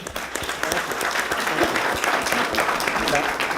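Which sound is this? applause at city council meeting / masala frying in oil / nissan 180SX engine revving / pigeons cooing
applause at city council meeting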